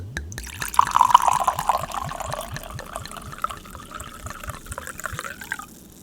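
Drink poured into a glass at close range, with a steady liquid gurgle and fizzing bubbles that settle into a fainter trickle toward the end.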